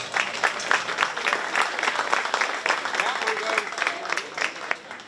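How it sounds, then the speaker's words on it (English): Audience applauds 4-H kids at a county fair swine show, steady clapping from a crowd that carries on throughout, moderately loud and even. "Let's give those kids a big round of applause."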